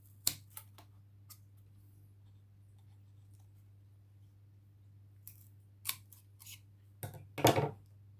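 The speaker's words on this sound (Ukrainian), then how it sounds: "звичайними ножицями вистригаю шматочок полістиролу" Ordinary scissors snip a piece of polystyrene during orchid repotting, with a few sharp cuts early, a quiet pause, then a close cluster of crisp snips and crunches near the end over faint hum.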